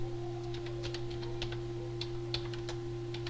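Typing on a computer keyboard, a run of light, quick clicky keystrokes in an irregular rhythm over a steady electrical hum, no voices.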